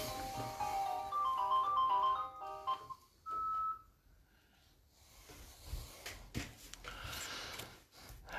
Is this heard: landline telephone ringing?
yes